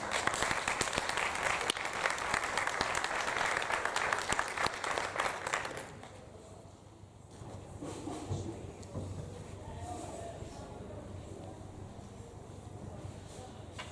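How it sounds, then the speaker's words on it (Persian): An audience applauds to welcome a speaker onto the stage at a TV channel launch event, loud sustained clapping that drops off sharply partway through, leaving a quieter room with scattered claps and murmuring. "لطفاً خوب تشویق بکنید"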